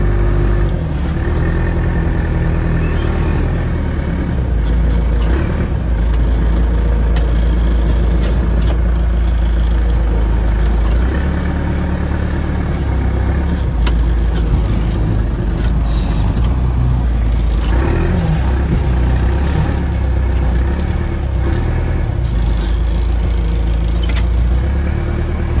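A farm tractor's engine runs steadily while hay bales are fed to cattle, a loud continuous low rumble with mechanical rattles and no talking over it.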